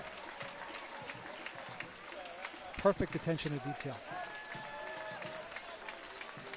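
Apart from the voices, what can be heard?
crowd applauding marching Marines at parade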